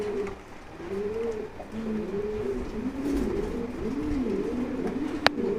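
A pigeon coos close by in repeated rolling, wavering phrases that run steadily throughout, with a single sharp click near the end and no talking.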